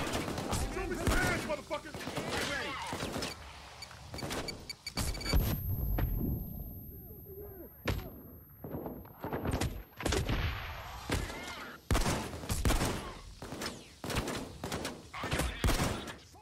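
Gunfire and explosions in a Payday 2 fight: rapid bursts of automatic fire and sharp shots, broken by heavy booming blasts, dense and loud throughout, with a voice speaking in places.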